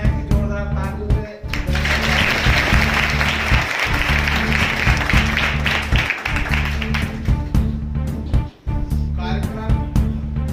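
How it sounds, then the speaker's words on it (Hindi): Audience applause greets guests at a school ceremony in India where bicycles are presented to students, sustained broadband clapping that stays loud over steady background music, with a few brief dips. "सभी से निवेदन है कि जोरदार तालियों से"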